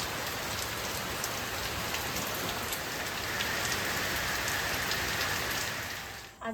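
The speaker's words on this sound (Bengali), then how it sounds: "কদিন ধরে খুব ভালোই বৃষ্টি হচ্ছে আমাদের এখানে" Steady, heavy rain pours down continuously, a dense hiss of drops striking a surface, loud and close throughout, with no voices.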